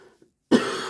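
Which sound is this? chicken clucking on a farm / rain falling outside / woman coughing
woman coughing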